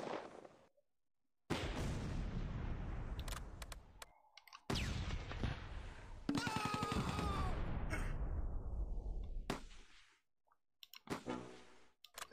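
Heavy gunfire from the Close Combat 2 war game: loud, dense bursts of shots and clattering volleys, separated by short silent gaps.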